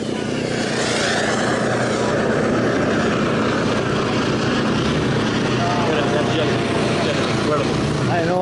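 An RC model jet flies at the Joe Nall radio-control aircraft meet, a loud continuous engine roar that stays steady throughout, with people talking over it.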